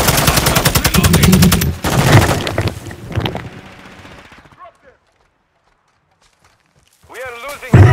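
Rapid automatic gunfire from a Call of Duty: Modern Warfare II battle rattles loud and close for about two seconds, then a few more bursts fade out before near silence, with a voice talking briefly at the end.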